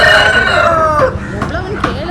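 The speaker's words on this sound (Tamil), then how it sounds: "அது கோழி, இது கோழி." Rooster crowing loudly and close at a busy Monday market in Nagercoil, Kanyakumari, a drawn-out call that breaks into clucks and squawks amid crowd noise.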